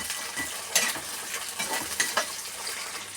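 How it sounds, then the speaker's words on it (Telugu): Cashews fry in a pan for an egg and tomato curry, a soft steady sizzle broken by scraping stirs and light utensil clicks against the pan. "దానిలో జీడిపప్పు వేసిన తర్వాత కొంచెం గట్టపెట్టి ఇలా వేయించుకుందాం."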